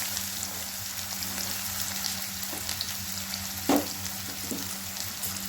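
Finely chopped medium onion frying in a pan over a cumin tadka, a steady close sizzle with a few light stirring knocks and one brief clatter.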